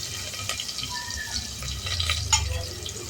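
Mustard seeds and cumin crackle in hot oil in a pan, a dense steady sizzle with scattered small pops, fairly close and low in level, with no talk over it.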